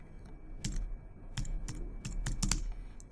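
Typing on a computer keyboard: a few sparse, quiet key clicks spread over a few seconds, close up, with no talk.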